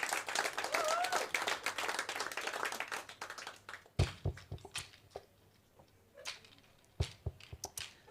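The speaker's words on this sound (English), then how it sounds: "So give yourself a big round of applause." A crowd at a live music show claps in a loud burst of applause for about four seconds. It then thins quickly into a few scattered, isolated claps with quieter gaps between them.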